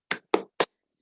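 Children in a second-grade classroom clap a rhythmic cheer (tepuk semangat): three sharp, crisp hand claps in quick succession, close and distinct, followed by silence.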